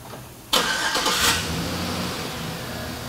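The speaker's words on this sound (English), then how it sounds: "Now we will go ahead and start the vehicle" A car engine cranks and fires abruptly after a brief quiet moment during a battery and charging check in a service shop, then settles into a steady close idle.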